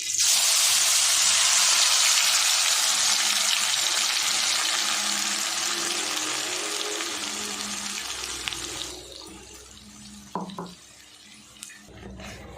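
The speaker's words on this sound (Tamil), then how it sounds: "அரைச்சி விழுத பார்த்தீங்களா எண்ணெயில் நல்லா மிக்ஸ் பண்ணி விட்டுட்டு நல்லா வதக்கி விட்டுருவோம்" Freshly ground spice paste for an egg dish hits hot oil with a loud, dense sizzle that gradually subsides, then quieter frying continues with a few clinks of a spoon against the pan.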